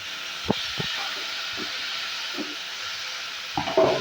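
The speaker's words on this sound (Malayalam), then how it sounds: "എണ്ണയിൽ ഈ പൊരിച്ച നമുക്ക് ഇത് ഉള്ളിയും വെളുത്തുള്ളിയും ഇഞ്ചിയും കൂടി ഞാൻ നുറുക്കി വെച്ചത് ഇടാം" Chopped onion, garlic and ginger sizzle in hot frying oil with a steady, even hiss, punctuated by a few soft knocks and stirring clatters near the start and end.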